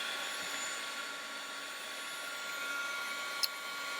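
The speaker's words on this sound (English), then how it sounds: "We're heating it if we have a plugged in heater about an inch away." A plugged-in heater held about an inch from a piece of shrink plastic makes a steady, even blowing whir throughout, with one brief sharp click near the end.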